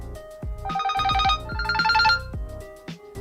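Anti-theft alarm on a Realme P4 Pro smartphone, a loud electronic ringing alert in two sustained bursts over a rhythmic tone pattern, alone without talk.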